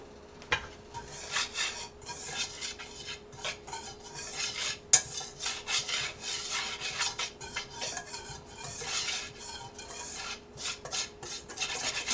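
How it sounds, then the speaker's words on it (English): A spoon stirs homemade onion ring batter in a bowl, a steady run of scraping, rubbing strokes with light clinks, close and fairly quiet, with no talking. "Try to get it stirred real good."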